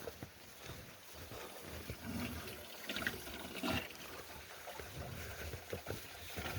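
Water poured out for cattle on a farm, a faint, uneven trickle and splash with soft gurgles coming and going, heard quietly against a low outdoor background.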